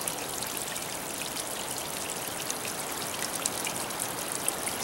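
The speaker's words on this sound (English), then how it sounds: "So I finally got to the waterfall here, and here it is." A small waterfall spills down a rocky canyon, giving a steady, close, broadband rush of falling water with fine splashing texture and no voices.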